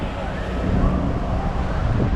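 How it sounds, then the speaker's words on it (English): Strong wind gusts roar steadily outside an airport terminal, a continuous close, blustery rush buffeting the microphone for the whole stretch. "It's really windy. I don't know how much you guys can hear me."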